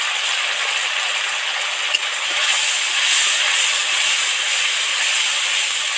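Masala of turmeric, chilli, cumin, coriander and pepper powders frying in oil in a pan for a vegetarian aloo fulkopi gravy, giving a steady, close hissing sizzle that holds level throughout with no talking.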